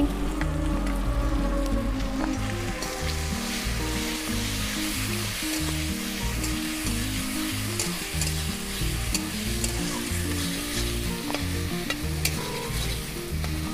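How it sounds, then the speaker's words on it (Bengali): Spices with turmeric, salt and ground dried red chilli paste stirred and frying steadily in a pan, a continuous sizzle with rhythmic scraping strokes throughout, no talking. "তাহলে আসুন আমি নেড়ে চেড়ে নিচ্ছি"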